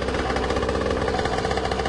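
A Birel 85cc go-kart engine runs steadily at close range, giving off a continuous buzzing, vibrating drone with no talking.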